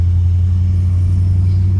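A 1956 Ford Fairlane Tudor Victoria idles steadily in drive, its engine a loud, continuous low rumble with a deep, even hum throughout.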